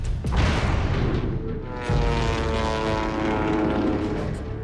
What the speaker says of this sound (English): the United States Army secretly rushes to manufacture an unpiloted airplane known as the Kettering Bug